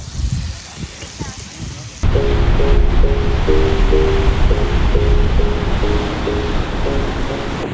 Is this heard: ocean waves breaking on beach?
yes